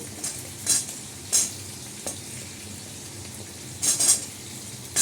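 Taro stems going into a hot pan with panch phoron, soft background sizzle broken by several short bright spatters and scrapes as the vegetables are stirred, close up with no talking.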